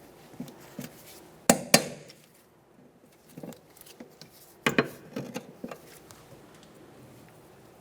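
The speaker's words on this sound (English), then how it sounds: "Use our cutters to peen this over." Metal cutters peening over a cotter pin on the rear upper control arm of a 1994-1997 Honda Accord, heard as a few sharp, close metallic taps and clinks in two short clusters with quiet gaps between.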